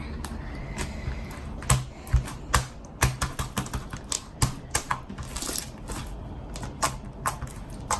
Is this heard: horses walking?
no